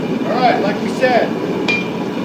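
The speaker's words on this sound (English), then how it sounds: "You can see hammer here." A forging hammer strikes a hot Nordic khopesh blade on an anvil at a smithy, a few loud ringing blows close by with a bright metallic tone, no talk.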